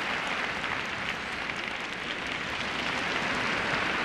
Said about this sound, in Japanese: 拍手に応えます。